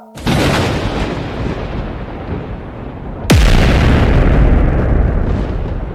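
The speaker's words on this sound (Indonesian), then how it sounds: "Suara ledakan menghentak lembah." A loud, deep explosion booms suddenly after a steady roaring rumble, then rolls on with a long, heavy rumbling tail.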